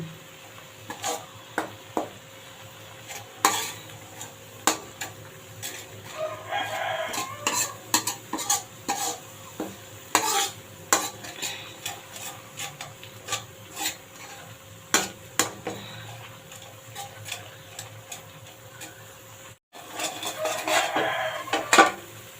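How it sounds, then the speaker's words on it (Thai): Curry paste being slowly dry-stirred in a pan for a Thai tilapia curry with betel leaves, a soft sizzle broken by repeated scraping strokes of a spatula against the pan at close range. "ค่อยๆ คั่วไปให้มันหอมนะคะเครื่องแกงหอม"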